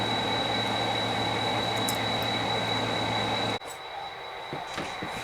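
A freight train with boxcars and a caboose gives a steady, loud rumble with a high whine, then cuts off abruptly, leaving a quieter room tone with a few faint clanks.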